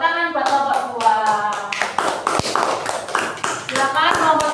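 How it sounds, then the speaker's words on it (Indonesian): A classroom of students breaks into applause for a group that has just presented, bright dense clapping running for several seconds, with a voice speaking over the start. "Tepuk tangan buat kelompok"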